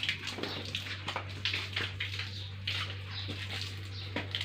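A child washing a car outdoors with a spray nozzle makes intermittent bursts of splashing, spraying water over a steady low hum, with brief gaps between the sprays.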